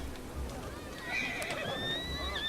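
A horse in the game Assassin's Creed Syndicate whinnies in a rising, shrill call near the end, over steady game ambience and a low background rumble.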